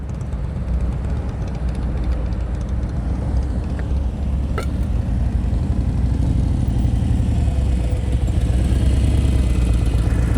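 Motorcycle engine during an advanced slow-speed riding practice session in California, a continuous loud low throb at near-idle revs, steady throughout with a faint click partway, close by and without talk.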